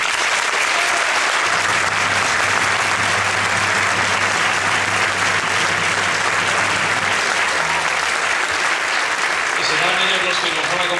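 An audience applauds dancers from the La Morana association at a traditional Zamora culture performance. Dense, steady clapping fills the whole stretch, with a faint low hum and tones beneath.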